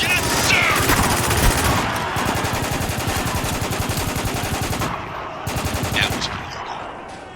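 Rapid automatic gunfire from shooting civilians in the war game Spec Ops: The Line, loud dense bursts rattling almost continuously for several seconds, with a brief lull before firing resumes.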